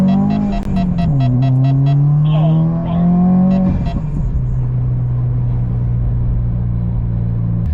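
A modified Subaru WRX pulls under acceleration, a loud, close engine and exhaust drone rising in pitch, then a gear change and steady lower rumble, with intake whoosh and some beeping tones early on.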